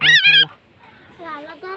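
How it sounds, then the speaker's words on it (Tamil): A rescued sparrow chick, recently soaked in rain, gives two loud close chirps, then softer, more broken calls after a short pause. "இந்த குருவி தான் ஃப்ரெண்ட்ஸ்."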